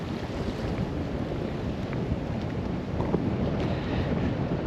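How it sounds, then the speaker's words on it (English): Steady wind buffets the microphone over the broad wash of a choppy sea off Cardwell, Australia, waves churning continuously with no voices. "it's a bit windy and the sea's a bit choppy"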